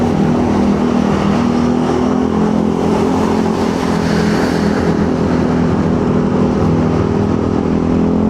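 Vehicle overtaking on a road, a loud continuous engine roar with steady droning tones that swell and pass close by over several seconds.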